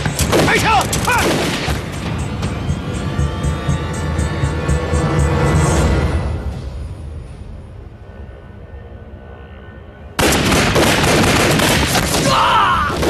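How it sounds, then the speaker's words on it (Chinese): Loud bursts of gunfire ring out in a kung fu film shootout with bandits, rapid shots packed densely for several seconds, easing off briefly, then erupting again at full force. "开枪！ 快！"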